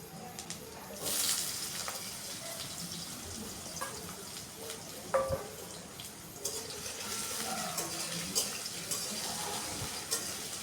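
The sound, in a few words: potatoes lightly frying in oil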